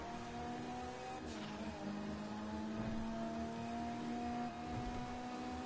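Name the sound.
car engine revving in GTA V video game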